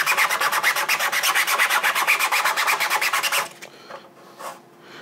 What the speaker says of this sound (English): if I just go ahead and use some sandpaper and give it a little bit of a rub